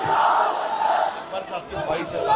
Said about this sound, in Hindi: तो मेरे साथ नारा लगाइए, नारे तकबीर, नारे तकबीर।